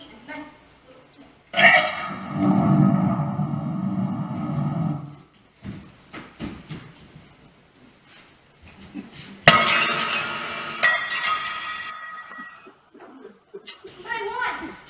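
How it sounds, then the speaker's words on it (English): Glass shattering as a stage effect for a breaking wand during a youth theatre play, a loud crash with tinkling debris heard twice in a hall, mixed with actors speaking and music. "My wand shattered to bits."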